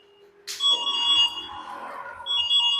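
A Yadea electric bike's remote-triggered alarm sounds, giving a loud, close electronic siren of shifting beeping tones that starts after a brief quiet and runs on continuously.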